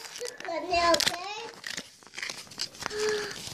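Crinkling and tearing of a sticker package being opened, short crackly bursts mixed with a child's and an adult's voices talking close by.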